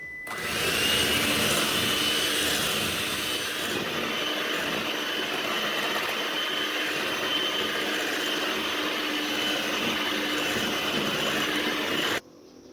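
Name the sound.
beating an egg into creamy cookie batter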